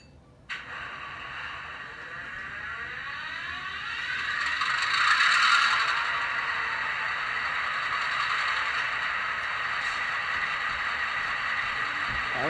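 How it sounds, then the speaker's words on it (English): An HO-scale Athearn Genesis Union Pacific GP38-2 model locomotive with a Tsunami sound decoder runs its startup sequence: a click, then a rising, whirring diesel rumble that swells and settles into a steady idle drone. "I'm going to apply track power because like most Athern Genesis locomotives, you apply track power and it starts up on its own."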